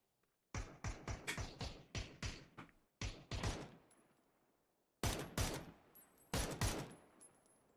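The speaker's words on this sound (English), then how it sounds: "Shots coming out." Gunfire in the PUBG battle royale video game: several sharp bursts of rapid automatic shots with short gaps, loud and close, with echoing tails and no talk.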